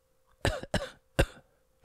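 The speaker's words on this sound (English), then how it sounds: "Try to cough." Three sharp, close coughs from a person, the first two in quick succession and the third after a short pause, with near silence around them.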